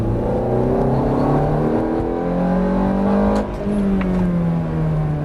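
A Ferrari F430 F1 engine accelerating hard through rising revs out of a corner, with a brief dip as it shifts gear before climbing again, heard from inside the car.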